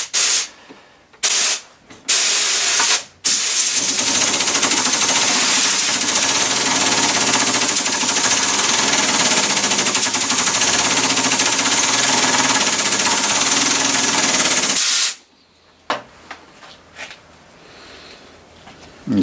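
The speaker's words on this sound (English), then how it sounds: "the compressor will kick in pretty much as soon as we start" An air compressor powering a coin ring punch runs loud and steady for about twelve seconds, a broad continuous hiss and rumble, with short bursts of mechanical noise before it starts and after it stops.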